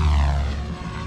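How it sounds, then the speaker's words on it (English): Kraken 580 RC helicopter flying at a helicopter fun fly, a short loud burst of rotor and motor drone passing close by. "Smooth heli."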